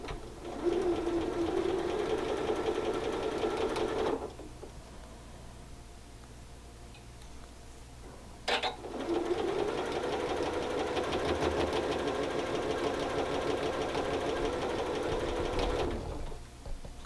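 A sewing machine stitches quilt block seams in two long steady bursts of rapid, even whirring, close and loud, separated by a quiet pause with a brief handling clatter.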